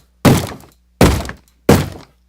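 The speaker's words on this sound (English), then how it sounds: "I think that's the sound of a zombie banging on a door" Three heavy thuds of a zombie banging on a door in the MineZ Minecraft game, evenly spaced about three quarters of a second apart, each loud and sharp with a short decaying rattle, alone with no talk.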